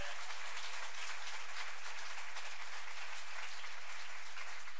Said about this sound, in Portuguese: dê um aplauso a Jesus, mais forte que você puder